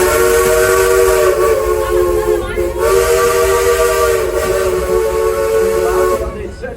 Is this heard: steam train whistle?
yes